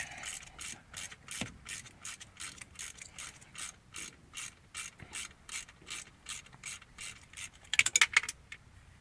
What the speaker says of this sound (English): the fun part, ratcheting and ratcheting and ratcheting